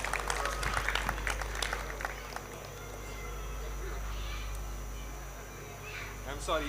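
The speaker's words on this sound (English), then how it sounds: "So let's give her a big applause" An audience applauds at a prize distribution ceremony, a burst of clapping that fades quickly into a low room hum, with talking over the top.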